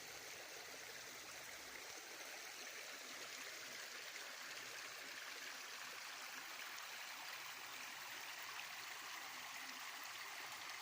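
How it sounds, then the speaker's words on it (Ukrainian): The Rybnytsia river near Kosiv in the Carpathian mountains flows steadily with a constant rushing, gurgling wash of water, soft and even throughout, with no voices. "переходячи мостик через річку рибниці"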